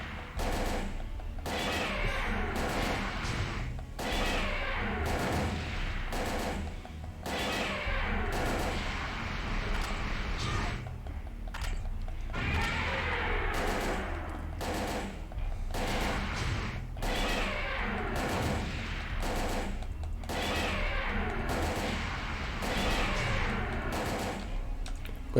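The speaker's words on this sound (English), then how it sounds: "And now we're going to start shooting it." Sustained gunfire in the Parasite Eve 2 video game: rapid, regular shots repeating steadily throughout, loud and continuous with brief pauses, no talking.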